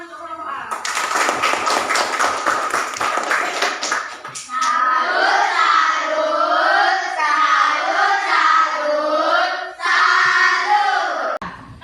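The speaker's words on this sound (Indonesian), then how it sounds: "Ayo tepuk tangan untuk kelompok A." Pupils in a classroom clap for a group, a few seconds of rapid, dense applause up close, followed by the class chanting loudly together.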